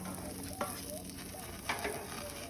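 Vegetables sizzle in olive oil in a hot pan, a quiet, steady frying hiss with a couple of brief stirring scrapes and pops, no voices.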